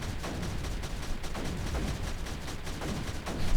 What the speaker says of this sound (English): take a look at this pulse cannon here, and he will start to clean it up.